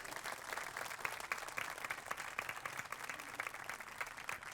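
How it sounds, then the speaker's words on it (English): A crowd applauds at a high school field hockey game. The clapping is faint and distant, a steady wash with no talk over it. "How about another round of applause"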